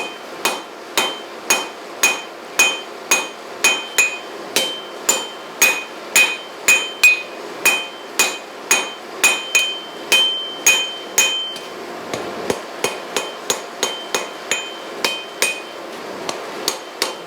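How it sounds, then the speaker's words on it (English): Half-faced hammer blows on a VEVOR 66-pound anvil while forging blacksmith tongs, a long steady series of loud ringing metallic strikes, about two per second, with a bright anvil ring on each hit. "using the far edge of the anvil, half-faced hammer blow"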